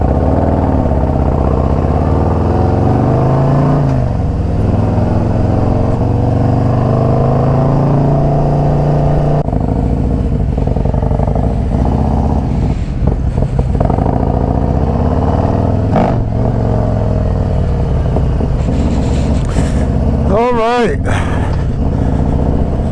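A Harley-Davidson Road Glide's exhaust rumbles steadily while the motorcycle is ridden, loud and close throughout, with the engine note rising and falling as it changes speed.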